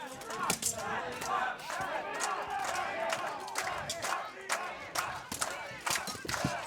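A crowd at a medieval combat world championship fight in Spottrup, Denmark chants rhythmically for Denmark, overlapping voices rising and falling with sharp clashing hits and shouts punctuating the chant at moderate distance.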